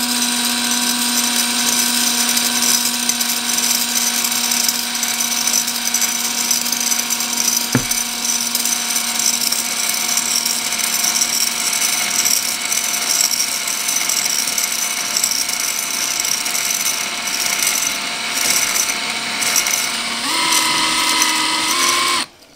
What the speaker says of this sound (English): slowly start the drill and apply slight